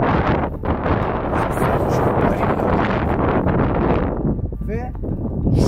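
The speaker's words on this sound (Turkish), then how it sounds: "İnanılmaz bir rüzgar var." Strong wind gusts outdoors buffet the microphone in loud, continuous roaring rushes. Someone speaks briefly over it near the end.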